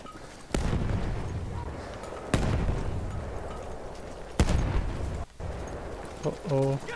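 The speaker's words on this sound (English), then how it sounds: "Oh, gas grenade." Battlefield 1 gas grenade in a first-person shooter match: three sharp, loud blasts land a couple of seconds apart, each trailing into a rumbling wash of battle noise, with a brief voice near the end.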